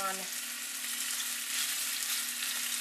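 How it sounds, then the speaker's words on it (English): Food sizzles and fries steadily in a hot pan, a constant crackling hiss with a faint tone briefly at the start. "we're going to brown them in the frying pan"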